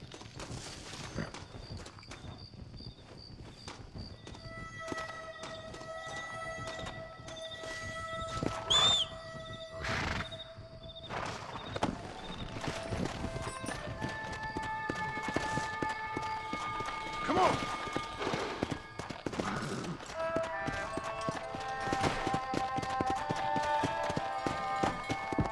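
Horse hooves clip-clop at a steady pace in the Western video game Red Dead Redemption, layered with tonal game music and ambience that run throughout.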